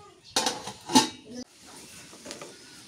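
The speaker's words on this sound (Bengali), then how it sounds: "ঢাকনাটা তুলে দেখি বলক উঠছে নাকি" A lid comes off a cooking pot of beef curry on a clay stove, making two quick metallic clanks and a scrape close by, then a quieter bubbling hiss.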